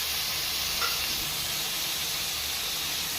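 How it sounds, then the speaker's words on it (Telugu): Vegetable pieces frying lightly in a pan for a rainy-season vegetable soup, giving a steady, even hiss and sizzle that holds at a constant level throughout with no voices. "వాటిని అయితే లైట్గా వేయించేసుకో."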